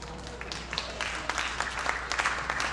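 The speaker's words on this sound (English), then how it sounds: "Go ahead, you can applaud." Scattered clapping from a small crowd builds into steady applause, moderately loud, with a faint low hum underneath.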